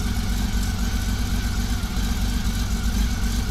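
A 1999 Honda Valkyrie Interstate motorcycle engine idling after repairs, a steady, loud low rumble with an even pulsing beat and no pauses.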